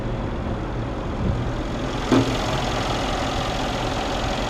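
A Mercedes-AMG S63 4Matic's 5.5-liter twin-turbo V8 idles with a steady, low, even rumble throughout, with a brief mechanical blip near the middle and no one speaking.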